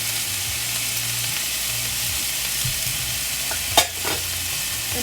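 Peppers and onion fry in a pan for a breakfast casserole, a low even sizzle with gentle stirring, then a brief sharper scrape of the utensil near the end, with no voices.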